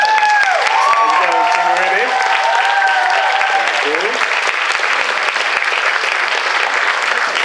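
Loud, steady audience applause at a RahCon 2015 cosplay competition, continuous clapping with voices calling out over it early on.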